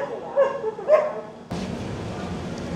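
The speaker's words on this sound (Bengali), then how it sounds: "ফার্স্ট ক্লাসে একমাত্র ডগ নিয়ে যাওয়া যায়। এটা আমাদের পাশের কূপটাতে ট্রাভেল করছে এটা।" A dog travelling in the neighbouring first-class AC coupe of the Samarsata Express, a Kolkata to Mumbai train, gives two short yipping barks, followed by the steady rumble of the moving train.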